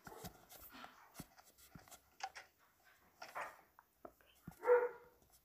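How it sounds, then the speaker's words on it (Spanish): Dogs bark in a game of Minecraft, several short sharp barks and a whimper scattered across a quiet background, fairly faint, with one louder bark near the end. "Los perros están ladrando."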